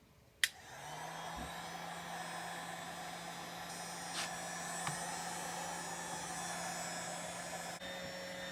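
A heat gun or hair-dryer-style blower warms an iPhone X to soften a new adhesive screen seal, giving a steady close airflow roar and electric hum after a sharp click at switch-on, with a few faint taps.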